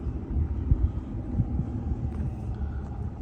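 A 1976 Ford F-250 Super Duty truck engine rumbling close by, a low steady throb with uneven pulses and no talk.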